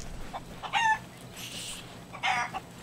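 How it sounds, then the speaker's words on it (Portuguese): Chicken clucking in the pirate video game Sea of Thieves, two short bursts of clucks a second or so apart with a brief rustling sound between them, fairly close and clear with no talking. "Para, galinha de fazer barulho, cacete."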